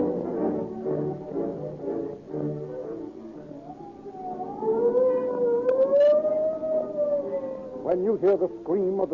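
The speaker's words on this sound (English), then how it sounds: "When you hear the scream of the siren and police cars go tearing past" A police car siren wails in an old radio crime drama, rising and sweeping over background voices and music before growing louder and warbling near the end.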